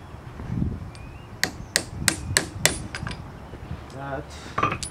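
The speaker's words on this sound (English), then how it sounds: "Just hammer it in." A hammer strikes a socket set against the A/C pump pulley of a 1969 Cadillac Eldorado, six or seven sharp metallic blows in an irregular rhythm, close by, amid low garage noise.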